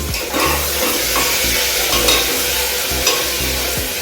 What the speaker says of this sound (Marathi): टोमॅटो आणि कढीपत्ता सोबत असतो आणि त्यात छान मिक्स करून घेऊ